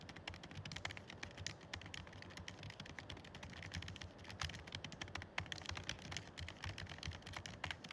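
A computer keyboard is typed on steadily during writing, giving a soft, continuous patter of quick key clicks at close range with no voices.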